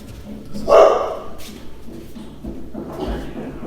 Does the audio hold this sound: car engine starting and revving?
no